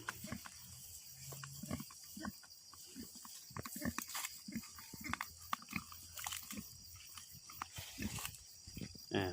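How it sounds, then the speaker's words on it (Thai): Organically raised pigs crunch tamarind seeds with their strong teeth, making close, repeated irregular cracking and chewing bursts, mixed with faint snorts and grunts against a quiet farm background. "ฟันก้ามของหมูจะมีจะแข็งแรงมากนะครับ สามารถเคี้ยวเม็ดมะขาม ได้แหลกละเอียดเลยนะครับ"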